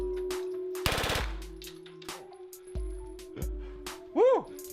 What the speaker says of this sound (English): First time shooting a full auto right here.